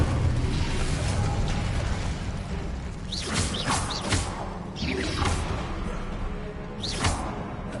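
An Incendio fire spell is cast in Hogwarts Legacy, a dense roaring burst of flame with several sharp whooshing flares over steady loud game noise.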